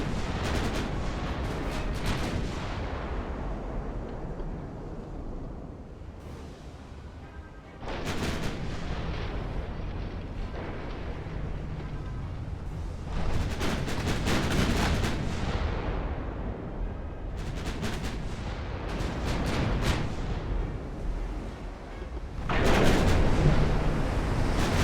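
Naval guns firing in the video game Ultimate Admiral: Dreadnoughts, a series of loud, deep booming salvos spaced several seconds apart, each followed by rolling rumble and decaying echoes over a constant sea-like background.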